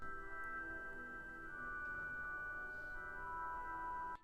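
An Arturia Augmented Strings pad plays alone as a very quiet, steady sustained chord of layered tones holding for several seconds, with no other instruments and no talk.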